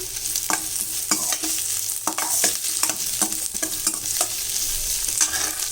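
Green chilli with crushed ginger and garlic frying in a pan of softening onions for tomato rice, a steady close sizzle broken by repeated scraping stir strokes.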